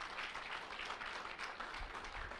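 Audience applause during a lecture on pneumatology, a steady wash of many hands clapping at moderate distance, quiet and even throughout the short span.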